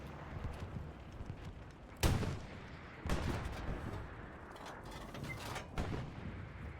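Anti-tank gun firing in Hell Let Loose during a match on the Mortain map: loud, sharp booms with a broadband crack, one heavy shot near two seconds, another at three and smaller blasts later over rumbling battlefield noise.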